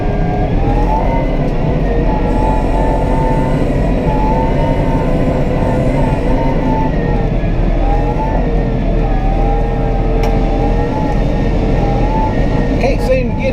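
A new Massey Ferguson 4710 tractor engine drones steadily and loudly from inside the cab while driving, a constant low rumble with a faint fan hum, and someone talks over it throughout.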